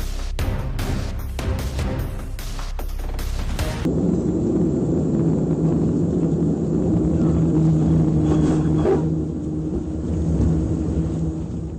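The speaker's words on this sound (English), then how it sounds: "Footage captured the terrifying moment an An-24 passenger jet smashed into a building at Nizhneangarsk Airport in Russia" An An-24 passenger plane crashing into a building at Nizhneangarsk Airport in Russia gives a few seconds of harsh, crackling impact bursts, followed by a loud, sustained roaring rumble with no voices.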